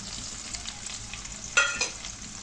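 Coriander and mint leaves sauté in hot oil over high heat for a mint bhel snack, giving a steady soft sizzle with a brief louder spatter and a utensil clink partway through.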